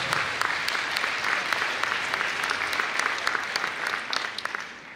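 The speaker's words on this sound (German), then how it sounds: "Applaus." An audience at a student poetry slam in Würzburg claps steadily throughout, a dense, even patter of many hands with a few sharper claps standing out, no voices on top.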